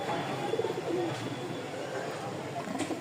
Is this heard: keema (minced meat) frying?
no